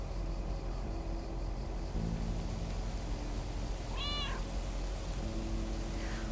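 A single short meow from a cat in the video game Lake, heard once midway and fairly close, over a steady hum of ambient noise.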